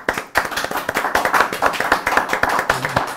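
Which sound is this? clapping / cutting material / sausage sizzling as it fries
clapping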